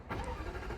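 Jaguar F-Type 5.0 V8 R-Dynamic P450 engine catching on start-up, a brief burst of starter and engine turnover that settles into a steady running rumble, fairly faint and close.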